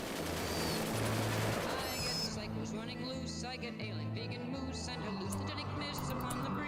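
Rapid bursts of gunfire from a RimWorld colony battle, clattering shots packed together in the first seconds and sparser pops afterward, with background game music and a speaker talking over it.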